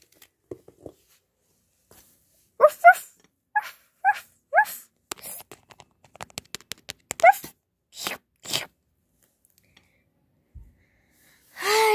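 Small female dog making short bursts of snorting, whimpering and gasping sounds, close by, in a series of quick separate cries and breaths with quiet gaps between them.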